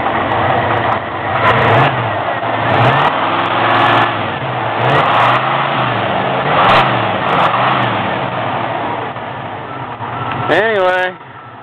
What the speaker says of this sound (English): There's a motor, sounding like it's about ready to die.